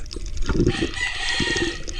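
A chicken clucks and crows close by amid outdoor noise, with a steady wash of background sound and no talking.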